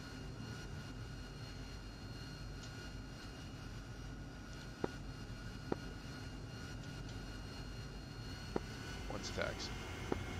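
A simulated AV-8B Harrier jet taxis in a flight game, its engine a low, steady, fairly faint drone broken by a few sharp clicks.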